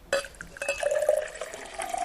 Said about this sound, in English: She lifts the jug and begins to pour.